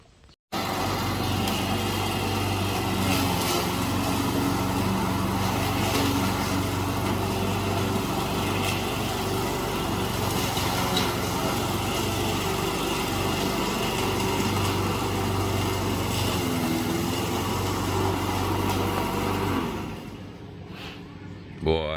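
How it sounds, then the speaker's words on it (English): A lawn mower runs steadily and moderately loud for the whole stretch while mowing a lawn, then cuts off near the end, with voices talking over the engine drone. "that's something you don't ever see a Filipina doing here in this country. Mowing a lawn."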